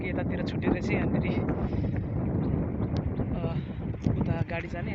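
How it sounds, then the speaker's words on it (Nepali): Strong wind blows outdoors along a roadside footpath on a cold winter trip, buffeting the microphone in a constant loud roar with gusty surges, and faint voices are mixed into the noise. "हावा एकदम चलिरहेछ हावा"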